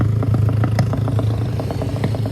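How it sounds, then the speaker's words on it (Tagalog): A motorcycle engine idles steadily nearby on a road trip, a low constant rumble with a light rhythmic ticking clatter running through it, no talking. "yun pong aking motor"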